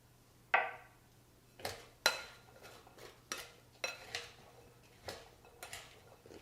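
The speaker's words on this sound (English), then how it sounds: "Give that a good little mix." Cauliflower being mixed with garlic powder and onion powder in a bowl, a series of sharp clinks and taps of a utensil against the bowl at irregular intervals, close and fairly quiet.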